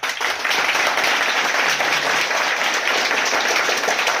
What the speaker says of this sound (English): Can somebody clap their hands?